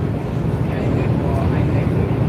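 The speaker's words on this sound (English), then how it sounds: "He revved up the engine, testing him still." A ferry's engine revs up before departing Marinduque Island, a steady, loud low rumble filling the whole stretch with wind buffeting the microphone.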